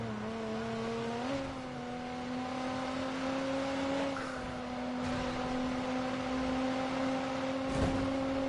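A BMW car engine in the video game Watch Dogs hums as a steady droning tone, pitching up once early on and then holding a smooth cruising note with small bumps.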